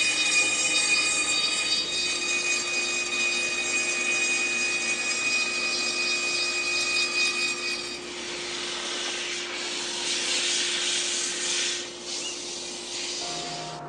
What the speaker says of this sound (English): Now I have to cut that cylinder perfectly round, which I could do by sanding or lathing, but instead I'll spin it over my table saw,